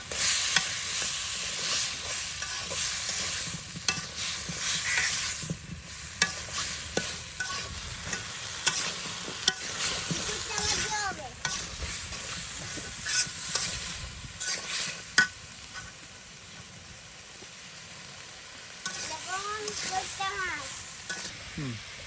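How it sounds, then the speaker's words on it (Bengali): Village-style fish curry of aar catfish being sautéed and stirred in a pan, with a steady sizzle and scraping stir strokes throughout, fairly close, and brief bits of speech here and there. "এখন আমি ভালো করে কষাবো"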